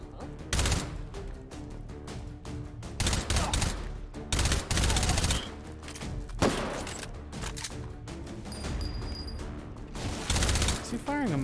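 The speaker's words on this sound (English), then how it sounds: "Is he firing a Mosin?" Mosin rifle fire in the video game Hot Dogs, Horseshoes & Hand Grenades, with repeated sharp gunshot bursts spaced through the scene, some loud and close, mixed with background game noise.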